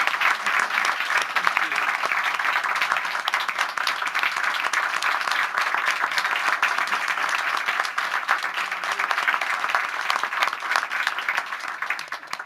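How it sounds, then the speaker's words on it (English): An audience at a school district board meeting applauds, a dense, steady wash of many hands clapping together that carries on evenly and without pause, heard alone with no voices over it. "if the members of the audience will please join me in applauding these leaders"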